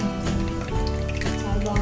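Bread-coated cheese balls deep frying in hot oil, a short burst of dense bubbling sizzle heard close and loud, mixed with a steady tonal background hum.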